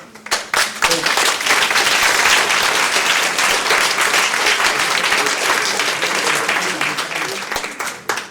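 Sustained applause from an audience at a community event, dense and steady for several seconds, with a few brief voices mixed in near the start.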